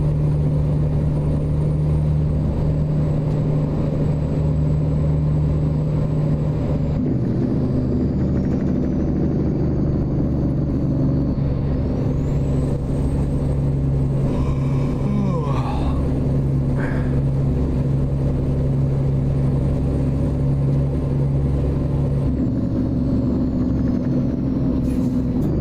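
International LoneStar semi truck in American Truck Simulator, fitted with an ISX-15 or X-15 engine, gives a steady, loud low diesel drone that shifts pitch as it revs and changes gear, with no talking over it.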